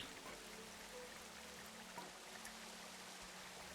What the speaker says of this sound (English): We get little splashies here.